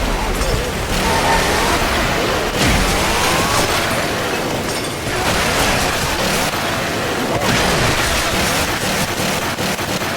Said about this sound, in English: all of a sudden it'll be blinding rain, you'll barely be able to see